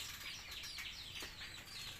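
A wild coucal calls outdoors in nature, giving a few chirping, clucking notes at moderate distance over a faint, steady background without speech.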